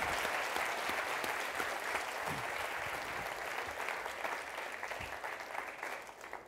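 Audience at a brand summit conference applauds after a talk, sustained dense clapping from a large room that holds steady and slowly tapers near the end.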